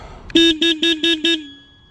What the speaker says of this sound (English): let's have a listen to the horn